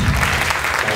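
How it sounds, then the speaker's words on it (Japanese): Concert audience applauding steadily at a small live band show as members are introduced, a dense even wash of clapping throughout with no breaks. "拍手。"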